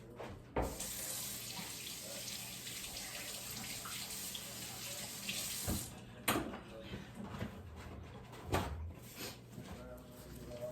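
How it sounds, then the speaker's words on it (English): Water runs steadily from a sink tap during handwashing, close and continuous, with a few knocks and bumps partway through. "Let me wash my hands real quick."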